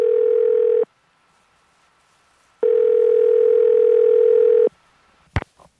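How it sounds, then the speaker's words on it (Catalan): Telephone dial tone while a radio presenter places a call: a loud, steady electronic tone sounds twice with a silent gap between, followed by a brief click or clatter at the end. "Trucant a Dani Ramírez, meteoròleg Cat Ràdio."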